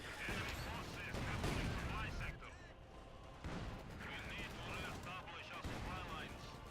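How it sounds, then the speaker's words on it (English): During a Company of Heroes 2 skirmish in the woods, Sherman tanks fire a .50 cal Browning machine gun amid dense, continuous battlefield gunfire with bursts and impacts, heard at a low overall level. "the Shermans can get this 50 cal Browning machine gun attachment, which is great for infantry working"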